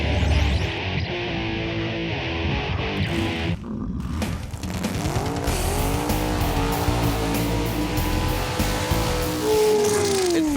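A Nova drag race car makes a loud, sustained run at a Montgomery, Alabama drag strip, the engine roaring and pitch climbing through the gears with harsh tire noise, with no voices.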